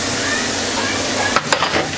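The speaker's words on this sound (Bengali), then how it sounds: "গাজরটুকু ভেজে নেওয়ার পর এর মধ্যে আমি দুধটুকু ঢেলে দিচ্ছি।" Milk poured into fried grated carrots for carrot halwa, a loud steady hiss and sizzle close by, broken near the end by a couple of brief clanks and scrapes, with no talk.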